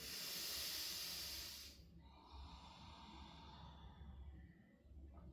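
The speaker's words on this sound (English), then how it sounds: "Let's take 5 nice yogic breaths here, practicing our breathing." Yogic breathing during a yoga practice: a strong, loud hissing exhale fills the first couple of seconds, then softer, quieter breath noise continues alone.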